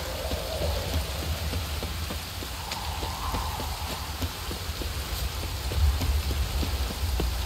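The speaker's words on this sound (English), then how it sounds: "This downpour's a bastard, it is" Heavy rain pours in The Witcher 3, a steady hiss of drops drumming on surfaces with faint scattered patters throughout, moderately quiet and without voices.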